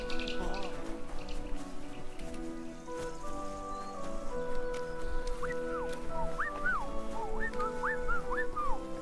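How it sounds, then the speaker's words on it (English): A dog in Kingdom Come: Deliverance 2 whimpers with rising and falling whines, up close over game ambience and background music. "Good doggy."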